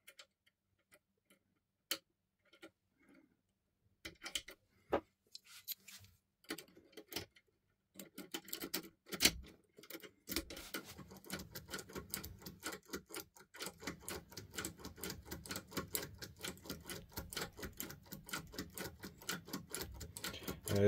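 Clicking and ticking of a Topolino decoder tool working the pins of a Viro 6-pin lock with a tension key inserted, sparse taps at first, then a dense rapid run of small metallic clicks, close and alone.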